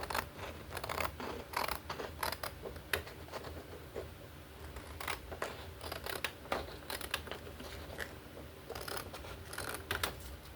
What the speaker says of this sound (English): Now I gotta cut this part off, the bottom of this transparency off.